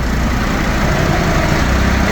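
A tractor engine labours under load while pulling a trolley heavily filled with soil at a demolition site. It gives a loud, steady, low rumbling drone that runs unbroken and close throughout, with no talk over it.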